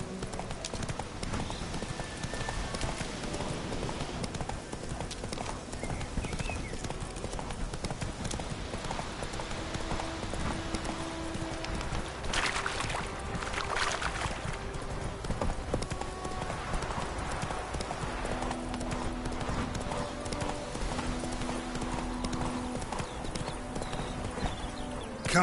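Horse hooves clip-clop steadily at a gallop in The Witcher 3, a continuous rhythmic drumming over game ambience with an occasional whinny and a brief voice.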